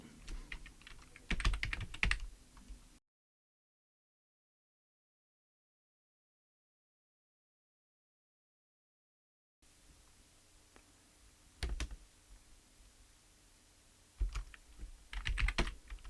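Computer keyboard typing commands on a small 8-bit single-board computer: short bursts of quick close keystrokes, then a long silent gap, then more scattered key taps and rapid clusters, with no talk.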